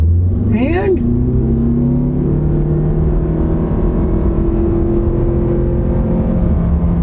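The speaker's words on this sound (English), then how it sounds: "We'll get to our little drag strip. Here we go. We'll floor it." Under full throttle, a Toyota Camry hybrid with an electronic CVT accelerates hard, engine droning at a steady high pitch after a brief rising whine at the start, loud and close inside the cabin, with a voice speaking briefly.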